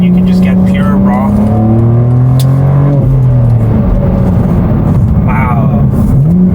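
A BMW G87 M2 with an AWE Track Edition exhaust revs hard from inside the cabin, engine note rising and falling through several loud pulls and downshifts while people talk over it.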